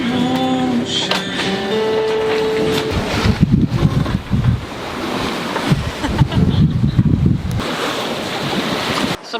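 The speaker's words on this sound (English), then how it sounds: "Got some strong wind, 17, 18 knots of wind" Strong wind of 17 to 18 knots roars across a sailboat at sea, buffeting the microphone in gusty bursts over the rush of waves and hull noise, with no talking.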